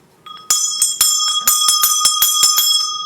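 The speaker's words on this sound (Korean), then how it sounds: "종 가겠습니다." Struck bell at a market-opening ceremony, a series of about eight sharp metallic strikes in fairly steady rhythm, loud and ringing with sustained overlapping tones and no talking.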